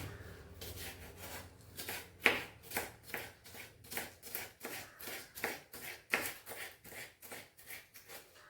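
Knife chopping winged beans finely on a board, a steady run of about twenty crisp, evenly spaced cuts, close and fairly loud with no talking.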